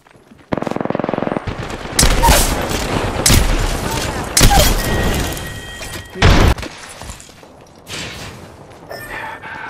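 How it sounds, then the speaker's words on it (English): Rapid bursts of automatic gunfire and heavy booms in an Apex Legends firefight, loud and close, with clustered volleys, sharp impacts and brief lulls between exchanges. "Opening fire."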